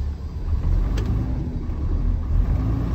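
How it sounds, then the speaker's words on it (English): A public works truck's engine rumbles steadily inside the cab as the accelerator is tapped, giving a low, continuous drone with mild swells rather than sharp revs. "I'm going to tap the accelerator 2 times."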